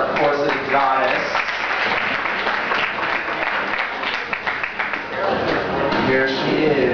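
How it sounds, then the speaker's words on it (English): Audience applause at a fashion show, steady crowd clapping throughout while an announcer talks over it. "Lovely applause for our corset goddess."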